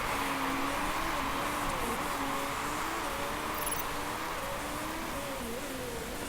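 A race car in Motorsport Manager streaks past with a steady, droning engine whine that wavers slightly in pitch, a constant wash of engine and track noise that stays loud throughout.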